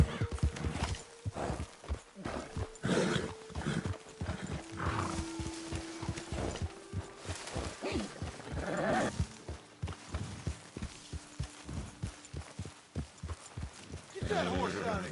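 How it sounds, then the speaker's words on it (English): Horse hooves clip-clop in the Red Dead Redemption 2 video game, a rhythmic series of hoofbeats with occasional whinnies, mixed under spoken dialogue and ambient music. "Get that horse out of here."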